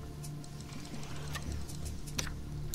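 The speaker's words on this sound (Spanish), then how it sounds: "Está lloviendo bastante, eso es bueno." Rain falls in the survival video game Sheltered as a steady, soft patter with scattered light ticks, set under faint sustained game music tones.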